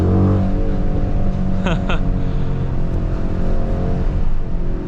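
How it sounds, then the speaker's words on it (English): A 2023 Mercedes-Benz GLE 63s AMG Coupé with a V8 bi-turbo accelerates hard from inside the cabin, with a loud, steady engine drone throughout and a rising gear-change sweep partway through. "Let's give it some throttle."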